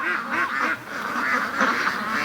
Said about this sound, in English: that didn't take long to spook the ducks